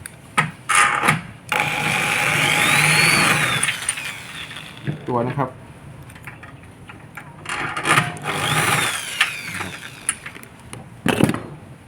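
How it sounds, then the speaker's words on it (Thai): A power drill drives screws while fitting a swing lock, whirring in a sustained burst, rising and falling in pitch, then running again later, with someone talking in between. "แล้วก็ต้องใช้สว่านครับ"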